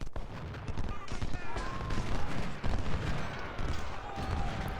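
Musket volleys crackle in a Civil War battle in the Ultimate General: Civil War strategy game, scattered rolling shots and fusillades at middle distance, layered over busy battlefield ambience.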